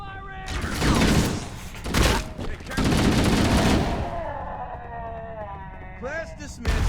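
Halo: Combat Evolved gunfire, loud rapid automatic bursts in repeated volleys, then a quieter stretch with voices talking over game sounds.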